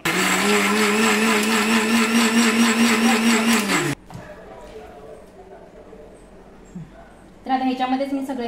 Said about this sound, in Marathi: तर आता हे सगळं आपण मिक्सरला बारीक करून घेऊया।